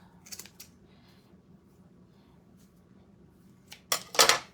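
Scissors snipping the ribbon ends of an Easter garland, a couple of quick faint snips early, then a louder, sharper cluster of cuts near the end, close by in a quiet room.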